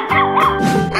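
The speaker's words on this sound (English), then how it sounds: "dog," A dog gives a quick series of yips and whimpering barks, close and fairly loud, with no talking.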